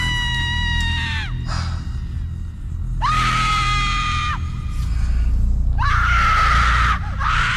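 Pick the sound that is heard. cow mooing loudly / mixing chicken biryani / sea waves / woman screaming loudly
woman screaming loudly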